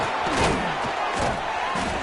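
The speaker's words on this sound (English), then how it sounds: "Home crowd trying to make a difference on fourth down." Home crowd roaring at a college football game between Texas and Arkansas on a fourth-down play, a dense, sustained wall of cheering and yelling that swells slightly and stays loud throughout.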